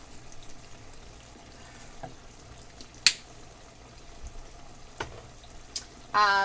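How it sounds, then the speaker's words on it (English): Shepherd's pie filling of seasoned beef simmers in a pan with a faint, steady bubbling hiss. Occasional small pops and clicks break through, and a brief louder clatter comes at the end. "So I'm gonna let this simmer"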